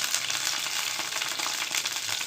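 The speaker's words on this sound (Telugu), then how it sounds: "నూనె వేసుకుందాము, పచ్చిమిర్చి వేయించుకోవడం కోసం." Green chillies frying in hot oil for pudina pachadi, a dense, steady crackling sizzle filling the short stretch at moderate loudness with no voices.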